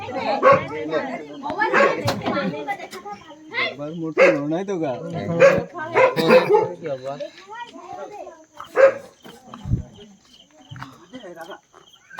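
A dog barks repeatedly in a village at night, its sharp barks and yips coming in irregular bursts under and between several people talking nearby.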